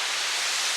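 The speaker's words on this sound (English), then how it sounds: "What I can also do is layer some white noise on top of those snares." White noise layered on snare drums in a hip-hop remix, a brief steady hiss without any distinct drum hits.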